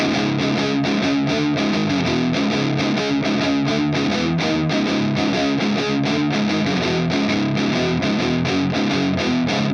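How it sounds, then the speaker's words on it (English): Clean electric guitar played through an Axe-Fx III amp model with no boost pedal, a steady strummed riff with even rhythmic chords and no speaking. "this is the sound of just the amplifier"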